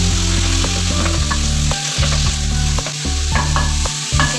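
Bottle gourd halwa frying with khoya and dry fruits in a pan, a loud steady sizzle broken by regular rhythmic scraping strokes of a spoon against the pan.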